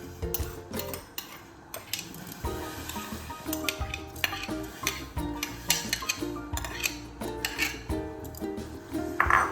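Soaked, drained rice is scooped into a grinder jar in a home kitchen. The clip is full of close, irregular scraping, clinking and rustling from the jar and utensils, with a louder clatter at the end.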